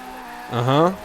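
Fiat 131 Abarth engine in the Forza racing game, rising into a loud drifting roar with a handbrake pull, a brief surge lasting about half a second over a steady quieter engine drone.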